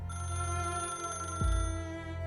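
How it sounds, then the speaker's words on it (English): A telephone bell rings out loud and close, a steady sustained ring with a brief low thump partway through and no voices. "The phone rings again."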